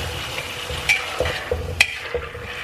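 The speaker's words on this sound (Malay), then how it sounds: "Kita kena sentiasa mengacau." Peanuts being stirred as they fry in a pan, with close scraping strokes and a few sharp utensil clicks over a continuous gentle sizzle.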